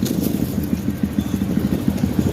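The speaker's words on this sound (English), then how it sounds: "little peon motorcycle" A small motorcycle engine running close by, a low throbbing, pulsing rumble that stays steady and fairly loud throughout with light clatter on top.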